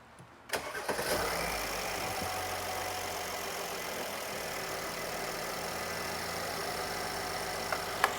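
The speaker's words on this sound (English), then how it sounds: "So go ahead and start the engine." A Mercedes-Benz GLS 450 engine cranks and catches after a brief pause, then settles into a steady, loud idle close by for several seconds, with a couple of faint clicks near the end.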